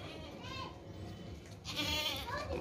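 Goats bleat at a livestock market where animals are shown for sale, close and fairly loud over a busy crowd with children's voices, a stronger burst of bleating rising near the end.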